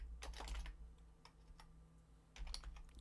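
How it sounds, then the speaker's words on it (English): Typing on a computer keyboard, heard as a short run of quiet, close key clicks in small clusters with a brief pause in the middle, and no voice. "if I can type properly"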